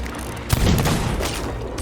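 A single deep cannon boom from a ship battle in the pirate game Sea of Thieves, hitting hard about half a second in and rolling off into a low rumble with no talk.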